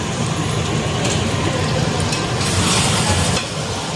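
Continuous loud sizzling with scraping and stirring of mutton and potatoes in a crowded wok, steady throughout with a brief rise in intensity near the end; no voices.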